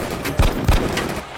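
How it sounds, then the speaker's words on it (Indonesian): Gunfire in a shootout from a gangster action film, two heavy thumping shots in quick succession over a dense, noisy background. "aksi tembak-tembakan terjadi"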